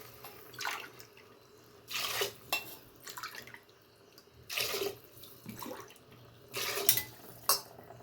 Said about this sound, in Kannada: 6 ಲೋಟ ನೀರು ಹಾಕ್ಕೊತಾ ಇದ್ದೀನಿ.